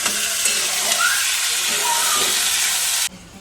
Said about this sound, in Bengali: আলু বটবটি ভাজা হচ্ছে